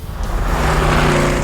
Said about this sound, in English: the high flow exhaust that came standard on both spoilers should turn your head